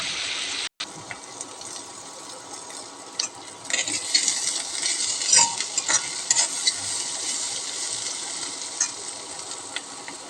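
Bitter gourd frying in a pan with salt and turmeric, stirred steadily with a utensil: a continuous broadband sizzle with scraping strokes growing louder partway through, close and without talk.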